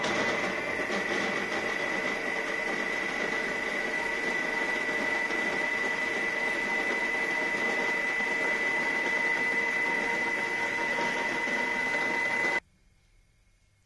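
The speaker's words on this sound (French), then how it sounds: "le robot a pétri 1 minute" A food processor kneads apple cake batter with a steady, loud mechanical whine and hum for about twelve seconds, then cuts off abruptly into near silence.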